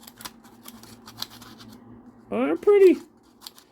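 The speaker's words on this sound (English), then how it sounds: "Pretty snippy little scissors" Small multi-tool scissors snip paper in two quick, close cuts, following soft scratchy handling, with a person speaking briefly afterward.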